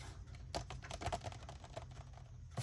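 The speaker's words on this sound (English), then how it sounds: "So now I'm going to trim, I'm going to cut this in half" Paper being trimmed for a December journal page, a run of small, close clicks and crisp snips over a few seconds, with a louder cut near the end.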